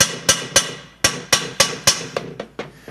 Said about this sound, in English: Just tap them with a hammer on the outside and they'll come loose